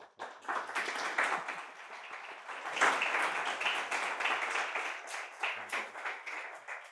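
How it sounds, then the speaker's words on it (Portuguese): Audience applause for a professor at the close of a university talk session, a dense steady spread of clapping lasting the whole stretch with a brief swell near the middle, no voices over it. "pedi uma salva de palmas para a professora"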